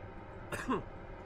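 A single short cough, muffled into a jacket, lands close and fairly soft against a quiet background.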